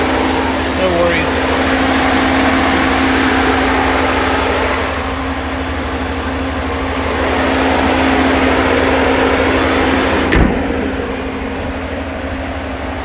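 A new Ram 1500 pickup truck's stock exhaust gives a steady low rumble at idle, continuous and fairly loud throughout, with a brief click near the end.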